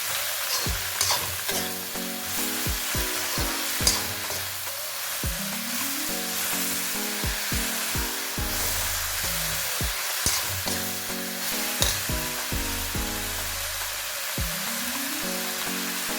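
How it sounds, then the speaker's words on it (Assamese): Taro and a fish head frying in a pan with turmeric, salt and spices, a steady loud sizzle under a continuous hiss, with spoon stirring and background music. "দি ভালদৰে ইয়াত ভাজি লওঁ।"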